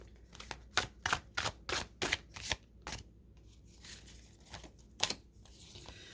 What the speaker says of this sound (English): All right, let's keep shuffling.